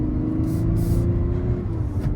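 A 2024 Mazda CX-90 Preferred Plus three-row SUV accelerates hard through corners, its engine a steady low rumble with a rising tone and faint road and wind noise throughout.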